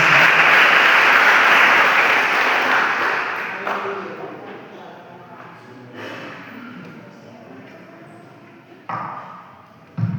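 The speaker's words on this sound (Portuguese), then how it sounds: "receba o servo de Deus com as palmas" Church congregation at a Sunday service applauding to welcome a singer, dense clapping that starts loud and gradually fades away, leaving a few scattered sounds and light voices at the end.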